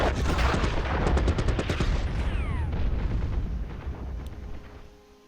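Artillery bombardment in the World War I strategy game Commander: The Great War: a rapid cluster of booming shots and explosions that rumble on, then fade out.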